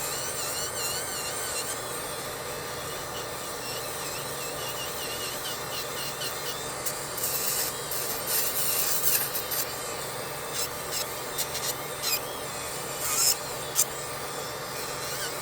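Acrylic nails being filed and reshaped with a nail file, a soft, steady rasping close by that turns into brisker, scratchier strokes in the second half, with no one speaking.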